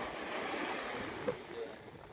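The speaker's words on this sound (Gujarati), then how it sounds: "ખાલી મોજા જો હે" Sea waves rolling onto the shore at Bet Dwarka, a steady broadband wash with light wind noise across the microphone and one or two small surges, heard alone without talk.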